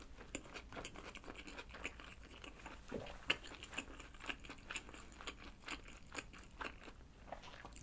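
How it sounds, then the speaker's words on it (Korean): Close, quiet chewing of pizza topped with spaghetti, with soft repeated bites and crunchy mouth sounds at an irregular rhythm. "요거 피자에다가 이렇게 스파게티 또 토핑해서 먹으면 완전 맛있는 거 알죠?"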